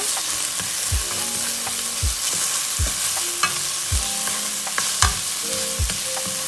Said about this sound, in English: I'm going to go ahead and add the minced garlic now and give it a stir